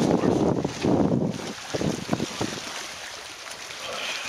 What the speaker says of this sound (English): It is a rough, windy day here